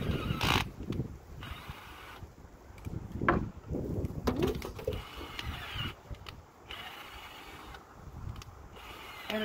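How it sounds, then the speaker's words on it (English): A hand drill bores a tap hole into a maple tree outdoors, grinding and ratcheting in uneven stretches with short stops, close and moderately loud. "I'm going to drill a hole in it"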